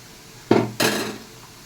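A pot of cooked rice is lifted off a home kitchen stove, giving two sharp metallic clanks about a third of a second apart, close and clear against a quiet room.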